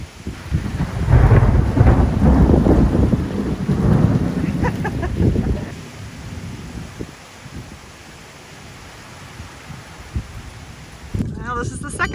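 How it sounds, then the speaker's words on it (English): A summer hail and rain storm over a ranch, with thunder rumbling loud and close through the first half over steady rain, then easing to softer rainfall, with a brief voice near the end. "Need the rain. Hail can go away."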